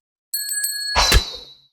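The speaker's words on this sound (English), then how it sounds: "When the final bell sounded, an almost sacred silence descended." A single bright bell ring with quick repeated strikes, followed by a louder struck tone that rings out and fades within about a second, heard alone.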